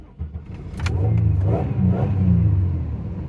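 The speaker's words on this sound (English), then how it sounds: "Let's go start the engine and make sure." An ailing car with an engine misfire is started up. The engine catches with a short burst, then revs and holds a rough, rumbling idle that stays loud and close for a few seconds, with no talking.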